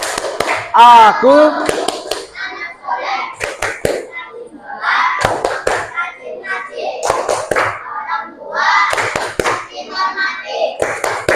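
Children chanting and clapping through the Indonesian clapping game tepuk anak soleh, with rhythmic hand claps and taps spaced between the bursts of young voices, close and lively throughout.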